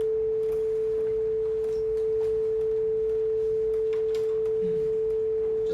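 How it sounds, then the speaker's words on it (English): A pure sine wave tone played back during a lesson on music and sound waves, a single steady pitch held unbroken for several seconds over faint room noise and small background bumps. "Going back to our original sine wave, let's just listen to that first one"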